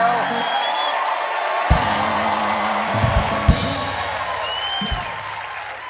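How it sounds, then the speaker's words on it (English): A television studio audience cheers and applauds in a broad, sustained roar with a few whoops, while someone speaks over the crowd noise and there are brief thumps of louder hits. "That cheer just lost some kid their college savings."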